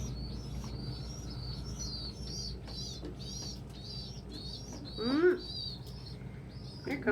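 Pet birds peep and chirp steadily in a run of high, repeated tweets, with a low cooing note and a brief louder squawk near the end. There is no talking.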